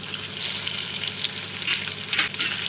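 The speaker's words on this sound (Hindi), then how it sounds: "मैं यहाँ सेलो फ्राई कर रही हूँ, आप चाहे तो डीप फ्राई भी कर सकते हैं।" Bread rolls shallow-frying in refined oil in a pan give a steady close crackle and bubbling sizzle, with a few sharper pops rising near the end and no voices.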